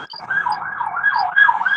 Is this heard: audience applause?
no